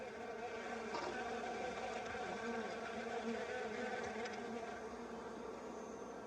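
Steady, dense buzzing of many bees from a rainforest hive, a continuous drone close by with no pauses, alone without voices.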